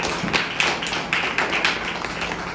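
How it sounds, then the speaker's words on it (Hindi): Audience clapping at a Hindi church testimony gathering: a thin, scattered patter of hand claps with several sharper individual claps, moderately close and sustained throughout. "ताली बजाइए।"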